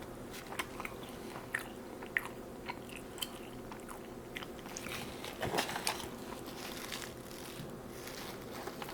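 Someone bites and chews a spicy chicken wing at close range, with repeated wet crunches and smacking bites spread steadily over several seconds, eaten alone without talk.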